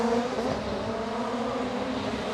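Rallycross race cars at a 2025 Kymiring qualifying start, held at full revs, produce a loud, sustained engine roar that stays fairly even throughout, close by and with no talking.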